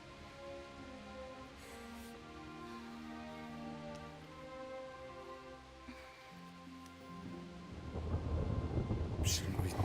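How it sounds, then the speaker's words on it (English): A thunderstorm with rain in the medieval game Kingdom Come: Deliverance: low thunder rumbles under background music and steady rain, with the rain swelling louder near the end. "Not afraid of thunderstorms, are you?"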